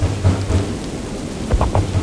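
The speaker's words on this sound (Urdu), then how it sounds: "بارش کے ساتھ ساتھ آندھی بھی چل رہی تھی۔" Thunder rumbles low through a rainstorm with wind, the downpour steady throughout and deep booming swells recurring every half second or so, loud and close.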